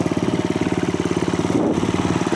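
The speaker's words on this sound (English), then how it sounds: "Nice, clean, crisp sound from the muffler exhaust system." Venom X18 50cc street-legal motorcycle engine idling through its muffler exhaust, a steady close-up putter of rapid, even pulses that runs throughout with no talk.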